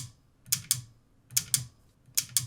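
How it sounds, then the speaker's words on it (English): Loud metallic clicks from a Moza SGP all-metal sequential shifter, heard in three quick double-click pairs as it is slammed through gears on a sim-racing rig, with no voices. "It's kind of like a blue clicky keyboard switch, but it's bigger, it's entirely metal, and you just want to slam it as hard as you can."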